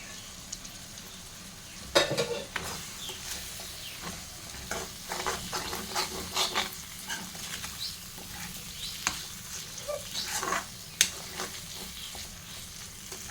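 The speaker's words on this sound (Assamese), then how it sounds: "তাৰপিছত এতিয়া এইখিনি ঢালি দিম ইয়াত।" Ingredients for a goat offal curry are poured into a hot cooking pan and stirred, giving a steady sizzle with repeated scraping and clinking strokes at an irregular rhythm, close and moderately loud, with no talking.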